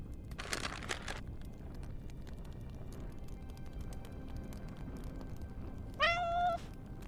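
Single short, rising-then-falling cat meow from the Love and Deepspace video game, sounding near the end after a quiet stretch of low ambient rumble and a brief rustle.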